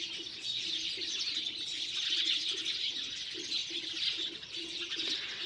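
Sparrows chirp around a village house in a busy, continuous chorus of overlapping tweets, steady and fairly close, with no talking.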